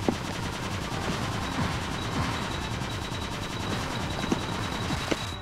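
Rapid automatic weapon fire from the Cave Story video game, a dense continuous stream of shots with a few sharper bursts standing out, loud and steady throughout with no talking.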